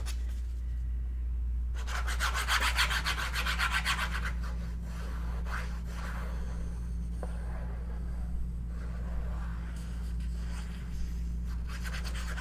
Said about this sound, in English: I'm just gonna have to hold this while I burnish it.